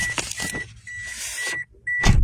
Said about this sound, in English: you hear the keys beeping in the car, because I didn't take them out